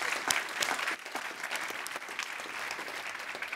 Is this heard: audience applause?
yes